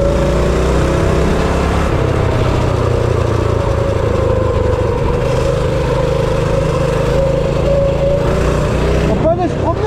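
Ormiga small car engine droning steadily while driving at an easy pace, a loud continuous buzzing motor close by with a brief change near the end.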